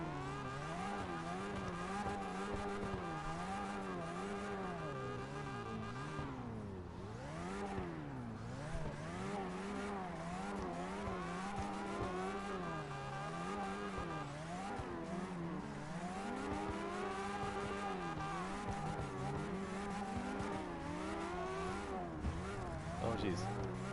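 A Nissan S13 drifting in CarX Drift Racing, with engine revs rising and falling over and over and tires squealing through long slides, loud and continuous with a voice talking over it.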